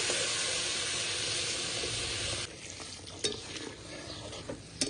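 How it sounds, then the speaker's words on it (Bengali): Water pours into a pan of spiced jackfruit curry, setting off a loud, dense hiss for a couple of seconds that drops to a softer simmer with a few stirring knocks. "এবার ঝোলে বসিয়ে দেবো তার জন্য পর্যাপ্ত পরিমাণ জল দিয়ে দিচ্ছি"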